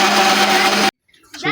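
Lentils being ground in an electric mixer grinder, a loud close whirring motor drone that cuts off abruptly, followed by a moment of quiet and then a voice starting to talk.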